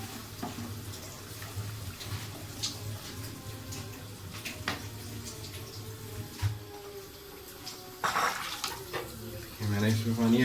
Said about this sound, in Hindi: मैंने इसमें पानी ऐड कर दिया